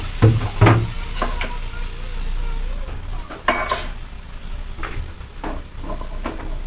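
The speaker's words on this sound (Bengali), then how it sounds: "জলটা দিয়ে ভালো করে নাড়াচাড়া করে নেব।" Fried spice paste with a little water is stirred in a pan, with scraping clinks of a utensil against metal over a soft simmering sizzle, irregular and close.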